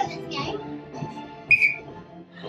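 A short, sharp whistle blast rings out during a children's sports day themed fitness session, cutting briefly through an adult's instructions and the background noise of the activity.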